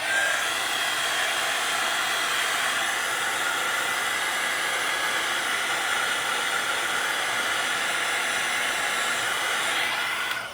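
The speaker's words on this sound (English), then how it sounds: "I'm going to take my little hairdryer thing that I have here, and I'm just going to kind of blow dry this part." A small hair dryer blows steadily across a painting, a loud, constant airy roar that holds unchanged for about ten seconds before cutting off at the end.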